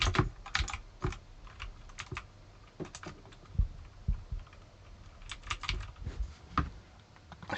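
Rapid typing on a faulty computer keyboard, with close, crisp key clicks arriving in irregular bursts and clusters and short pauses between them; no voices.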